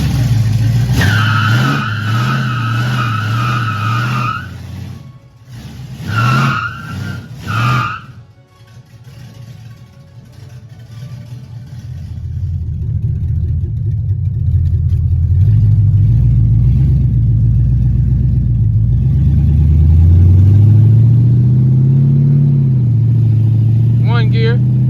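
An LS-swapped Chevrolet Malibu doing a quick burnout, loud revving V8 with sharp tire squeal up front, then a deep engine roar building and climbing through gears.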